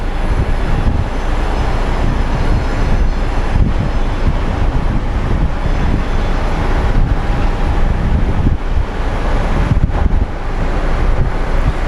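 Frontier airliner at Phoenix Sky Harbor airport, bound for Colorado Springs, giving a steady, loud broadband engine roar that holds throughout with wind buffeting the microphone and no talk.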